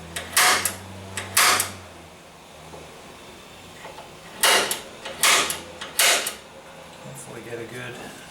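A center punch is struck to mark bolt hole positions on the frame of a 1977 Camaro Z28 during a rear four-link bracket install: five sharp, close metallic taps, two early and three later, with quiet pauses between.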